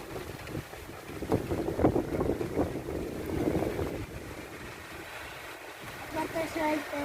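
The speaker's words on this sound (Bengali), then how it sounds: "বাতাস আসতেছে, সাথে বৃষ্টি" Strong gusts of wind from Cyclone Remal in Dhaka buffet the microphone in uneven surges, with morning rain falling behind them. People talk intermittently beneath the gusts.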